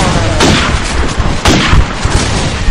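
Gunfire in the video game Call of Duty 4 during a competitive semifinal match comes as a loud, dense burst of shots, with two sharp, booming reports standing out above the rapid firing.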